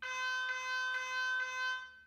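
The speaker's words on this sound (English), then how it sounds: "It also has a loud siren that can be triggered when motion is detected to scare away any" An X-Sense S21 4MP WiFi outdoor security camera sounds its built-in siren alarm: a steady, piercing electronic tone held for about two seconds with slight pulsing, heard up close and alone.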